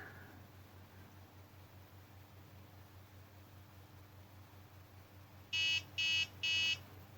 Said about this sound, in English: as soon as the temperature starts rising, we start getting an alarm